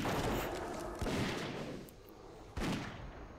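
A hunter character fires shots in World of Warcraft: two sharp, punchy gunshots about a second and a half apart over a steady game background, fairly quiet overall.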